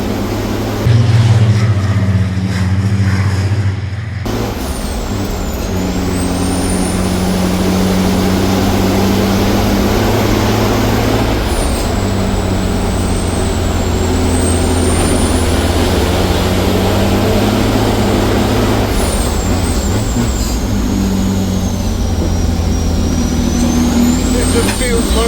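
Racing trucks rated at 1200 bhp run on the track at Pembrey, a loud continuous engine roar with rising whines heard from inside a cab, while a voice speaks over it.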